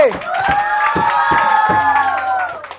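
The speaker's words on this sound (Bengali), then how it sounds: "জোরে একটা হাততালি" An audience at a children's comedy show applauds, with bright cheering voices ringing over a run of rhythmic claps that stays loud and steady for a few seconds.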